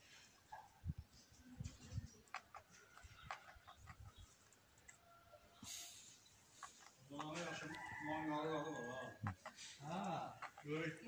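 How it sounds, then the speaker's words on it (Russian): A rooster crows loudly nearby in Salyan, Azerbaijan, with hens clucking around it and brief voices and rustling beforehand. "Вот это петушок здесь какой-то сидит."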